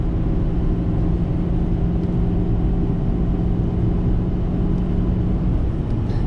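A truck engine cruises steadily in fifth gear on the highway after climbing a hill, a constant low rumbling drone heard from inside the cab with no talking.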